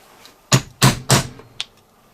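Three sharp metal-on-metal hammer blows drive a small punch through gasket material to cut out corners, evenly spaced and loud and close, followed by a fainter tap, with no talking.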